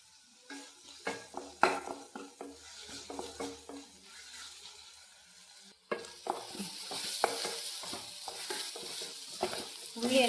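Onions sautéing with ginger-garlic paste and salt in a pan for paneer roast, irregular spatula scrapes and clinks at first, then a louder steady sizzle after the paste goes in, close up.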